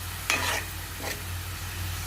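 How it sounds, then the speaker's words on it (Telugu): Green chillies and chopped onions fry in a pan with a constant low sizzle, broken by a couple of brief scraping stirs, close and moderately quiet. "ఇదిగోండి 3 పచ్చిమిర్చి, అలాగే తరుగుకున్న ఉల్లిపాయలని కూడా వేసుకొని గోల్డెన్ బ్రౌన్లోకి"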